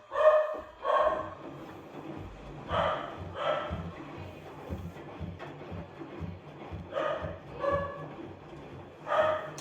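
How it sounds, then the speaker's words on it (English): A dog barks repeatedly in the background in a room where a Whirlpool WFW9200SQ00 washer runs a self-clean tub cycle, with irregular barks and yips spaced across the stretch and no speech. "Don't mind the dog in the background."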